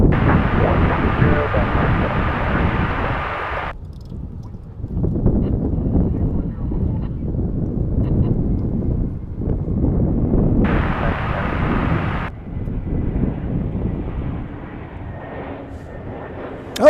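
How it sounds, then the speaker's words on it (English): A Spirit Airlines Airbus A321 jet flies inbound at DFW International Airport, a broad roar rising and fading in two passes over steady wind noise, with people talking in between. "we get a Spirit A321, a flying banana, coming inbound before Lufthansa"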